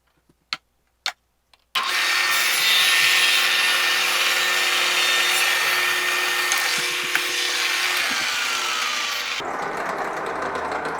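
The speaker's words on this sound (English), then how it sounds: "I'm going to slide the sled pretty close to the blade, and I'm going to begin cutting my dados" A table saw with a sled cuts dados in plywood for a serving tray, a few clicks giving way to a loud sustained blade whine with cutting noise, easing to a quieter run-down near the end.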